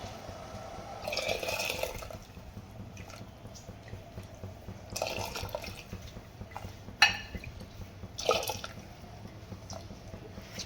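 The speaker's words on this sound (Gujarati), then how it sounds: "તો હવે આપણે દાળને આમાં આંધણમાં ઓરી દેવાની છે" Washed lentils are poured into a pot of boiling water for sambar in several separate splashing bursts, with a couple of sharp plops between them, over a quiet bubbling background.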